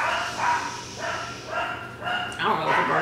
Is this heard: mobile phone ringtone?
no